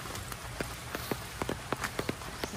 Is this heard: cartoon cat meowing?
no